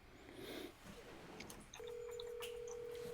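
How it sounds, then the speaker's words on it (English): A mobile phone places a call: brief dial beeps, then a sustained steady ringback tone that holds clearly to the end, with faint background noise underneath. "I'm going to call Coldflake live on my phone."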